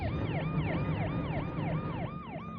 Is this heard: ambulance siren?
yes